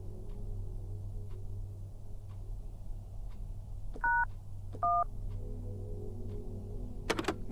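Two short telephone dialing tones beep in a video game over a steady low hum, spaced about a second apart, with faint ticks and a sharp click near the end.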